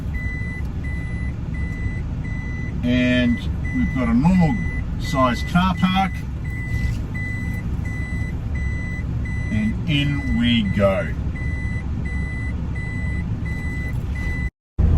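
Motorhome with a bunk bed layout reversing into a space in a normal-sized car park, its reversing alarm beeping in an even repeating rhythm throughout over a low engine rumble while someone talks in bursts.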